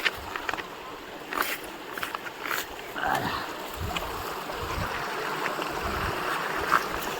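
A shallow stream flows around someone wading alone along a rough riverbed path in Nepal, its steady babble and splashing close by and fairly loud, with occasional sharper splashes of footsteps through the water.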